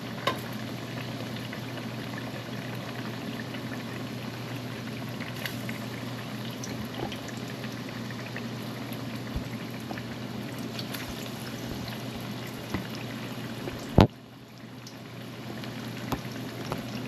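Plantain slices frying in a pan for a Jamaican meal make a steady, even sizzle that holds through the whole stretch, with a sharp clatter near the end as pieces are handled.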